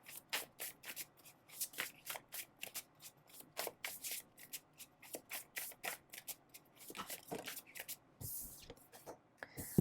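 Tarot cards being shuffled and drawn during a reading, a close, steady run of quick riffling flicks and soft card slaps repeating throughout with no voices.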